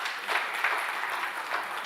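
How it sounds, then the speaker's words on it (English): An audience at an agricultural conference gives steady, dense applause in a hall for a visiting Ugandan minister of state for agriculture, animal industry and fisheries. "So a big round of applause for Dr. Bright as well."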